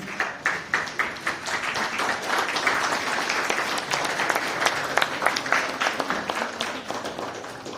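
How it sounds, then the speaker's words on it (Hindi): A standing audience at a hotel and restaurant association event applauds to welcome a government minister: dense, lively clapping with individual sharp claps standing out, close and loud, sustained throughout. "आप सब लोग खड़े होकर तालियों से उनका स्वागत कीजिए प्लीज"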